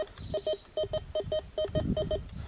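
A metal detector passing over nails gives quick paired beeps, short back-to-back tones repeating in a steady rhythm over faint ground scraping.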